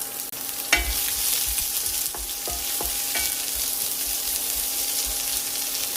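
Shallots and garlic sizzle steadily in a hot pan for a village-style jackfruit seed and drumstick leaf curry, with a few sharp stirring scrapes and clinks over a continuous close frying hiss.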